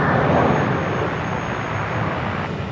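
A Virgin Boeing 737 NG airliner, retrofitted with split scimitar winglets, rotates on takeoff at Brisbane Airport. Its engines give a loud, steady, broadband roar that holds close and constant throughout.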